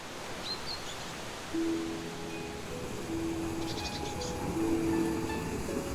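A tidal bore known as the silver dragon, a wall of water up to 9 m high, surges up a river with a steady, loud, rumbling roar and faint tonal notes running underneath.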